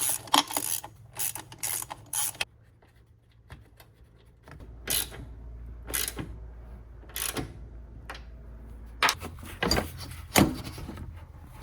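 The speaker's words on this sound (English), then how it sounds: "So now it's just a matter of getting everything bolted down." Ratchet wrench bolting down parts on a drift car in a garage: repeated short runs of loud, close clicking in uneven bursts, separated by brief pauses, with no talking.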